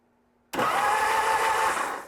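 A Norton motorcycle engine cranking over with the ignition on, a sudden loud churning onset after near silence that grinds on steadily for about a second and a half before easing.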